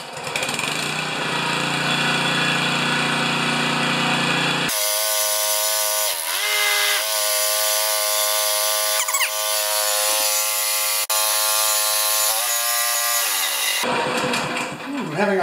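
An older Honda walk-behind lawn mower with a leaking oil problem runs near and loud, its steady engine drone changing pitch and load several times as it is choked and throttled, with brief shifts between idle and higher speed.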